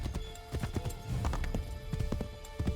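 Hooves clip-clop at a steady trotting rhythm as a horse is ridden in Assassin's Creed III, close and fairly quiet over a faint tonal game soundtrack.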